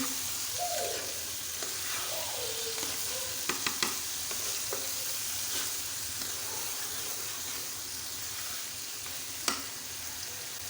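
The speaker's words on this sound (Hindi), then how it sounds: "दाल को भी अच्छी तरह से हमने फ्राई करना है मटन के साथ।" Chana dal and mutton fry with spices in a pan, giving a steady close sizzle with soft stirring and a few sharp clicks of a spoon against the pot, with no talk.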